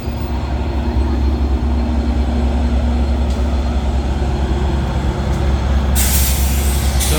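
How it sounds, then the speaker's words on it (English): Two diesel locomotives rumble close by at Montreal West train station, a loud steady low drone with a constant engine hum, ending in a sharp hissing burst like an air brake release. "Look at this. We got two locomotives."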